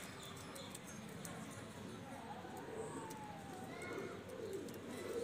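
Pigeons coo softly in the background, low burbling calls mixed with faint rustles and a murmur of distant voices.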